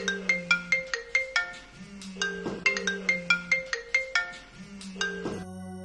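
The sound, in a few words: phone ringtone of an incoming call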